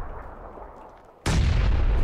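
A grenade blast from above in PUBG, a sudden loud booming burst that cuts in after a quieter rumbling background and sustains a dense roar to the end.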